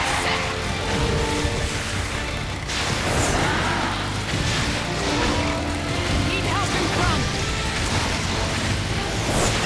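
A vehicle in Metal Gear Solid 4 drives on with a steady engine roar and mechanical rumble under clattering game effects and voices, holding loud and dense throughout.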